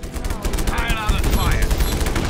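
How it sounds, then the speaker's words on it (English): Big in-game explosions and gunfire crackle through a Just Cause 3 battle, a dense, continuous burst of booms and rattling shots that stays loud for the whole stretch with no pause. "Those big explosion."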